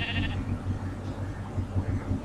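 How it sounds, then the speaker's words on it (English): A Minecraft sheep lets out a short, bright bleat as it is struck, loud at the very start, then gives way to a steady low game rumble. "I am killing a sheep at the first."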